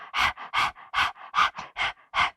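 A person pants rapidly with the tongue out in imitation of a dog, about ten loud breathy huffs in a quick even rhythm, close and alone.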